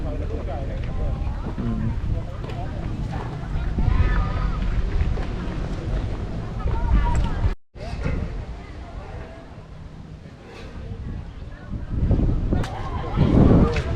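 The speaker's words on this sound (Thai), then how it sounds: "แดดหายลมมาอากาศเย็นเลย" Wind gusts buffet the microphone in a steady, roaring rush while crossing a suspension bridge at Khao Ngu Stone Park in Ratchaburi, with people talking over it throughout.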